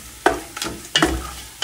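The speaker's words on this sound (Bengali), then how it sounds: "আস্ত মশলাটা আমি তেলের সাথে একটু ভেজে নিচ্ছি।" Whole spices frying in oil with browned onion in a pan, a soft sizzle broken by a few sharp stirring scrapes and clinks, close and without talk.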